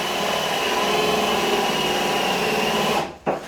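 A power drill bores a hole, its motor whirring loudly and steadily at close range before cutting off abruptly near the end, leaving a brief clunk.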